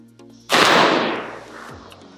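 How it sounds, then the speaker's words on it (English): A single loud, close gunshot from a CMMG Mk4 AR-15 rifle chambered in 22 Nosler, a sharp crack followed by a long echoing decay outdoors, with no talking. "So we'll shoot a 6 rounds to see what happens with the last 5."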